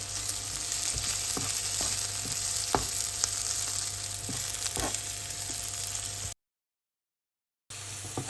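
Dry red chilies frying in three tablespoons of hot mustard oil, a steady close crackling sizzle with occasional pops and stirring scrapes, then a brief cut to silence before the sizzle resumes.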